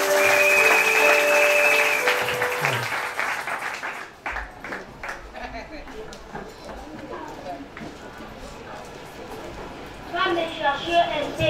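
A church congregation at a Branham Tabernacle Sunday school breaks into loud, dense applause with music playing, then the clapping fades under someone speaking before another burst of clapping returns near the end.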